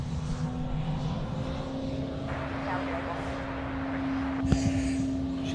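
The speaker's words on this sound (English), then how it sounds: "Qantas 27, runway Runway 34 left, cleared for takeoff." A Qantas airliner takes off from runway 34 left at Sydney Airport, its engines a steady droning roar with a sustained tonal hum, heard at a distance beneath people talking.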